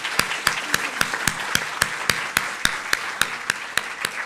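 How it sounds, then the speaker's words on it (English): Conference audience clapping for panelists at the 2023 Dataverse Community Meeting, a thin, sparse round of applause with individual claps standing out in a fairly regular rhythm over a few seconds. "please give a big round of applause to our panelists"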